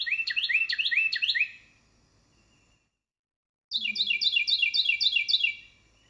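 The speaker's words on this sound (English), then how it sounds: "Carolina wren." A Carolina wren sings two bursts of rapid, loud, repeated rolling phrases, each lasting over a second, separated by a quiet pause. The song sounds fairly close and is heard alone, without talk.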